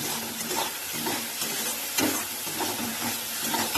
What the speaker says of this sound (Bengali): এই যে আমার মশলাটা প্রায় কষে এসছে তেলও ছেড়ে দিয়েছে